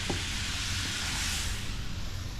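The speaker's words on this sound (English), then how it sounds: "Gonna stir it around for a little bit, let that wine soak in all those flavors" Wine poured into a hot pan to deglaze it, giving a steady broadband sizzle and hiss that holds at an even level for the whole stretch, with faint stirring underneath and no voices.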